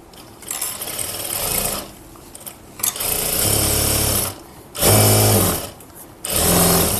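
A sewing machine stitches blouse pieces and lining together in several loud, close bursts of rapid whirring, separated by short pauses.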